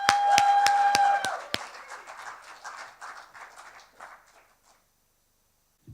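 Audience applause at a live storytelling show, a loud burst with a sharp sustained whistle-like tone at the start, then scattered clapping thinning out over a few seconds before silence.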